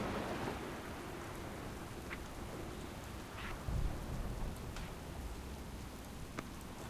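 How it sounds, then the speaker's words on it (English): A storm in World of Warcraft brings steady, dense rainfall with a low thunder rumble swelling midway. Faint distant cracks flicker through the hiss, and there is no talking. "Warlord, this storm will soon overwhelm us"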